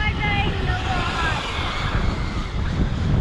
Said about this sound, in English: Got windy as hell